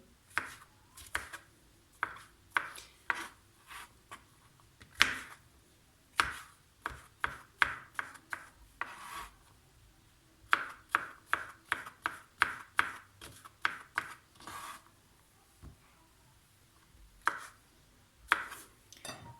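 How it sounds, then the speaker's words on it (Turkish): A knife chops mushrooms into small pieces on a cutting board in quick bursts of sharp taps, pausing briefly between runs, close and clear with no talking. "Şimdi mantarlarımızı doğrayalım ufak ufak."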